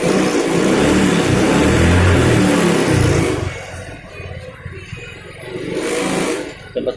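A fuel-injected Yamaha X-Ride motorcycle engine with an unstable idle runs loud and rough up close, then drops away to a quieter, uneven murmur before swelling again briefly near the end, as the idle rises and falls.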